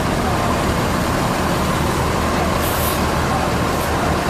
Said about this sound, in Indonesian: Bis, ada 3 bis yang masuk.